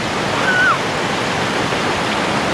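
A river with falls in the Philippines rushes loudly and steadily, a dense, close roar of flowing water with no talking.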